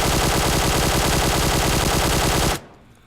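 Assault rifle fitted with a flash hider firing in PUBG Mobile: a loud, continuous rapid burst of automatic shots lasting about two and a half seconds, then cutting off abruptly into quiet.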